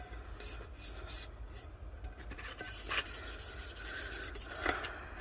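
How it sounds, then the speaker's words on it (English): Fingers rub a holographic Dollar Tree wallpaper decal down onto a tumbler, giving a quiet, close, papery rubbing with scattered small scratchy squeaks. "So I'm gonna rub this whole thing down."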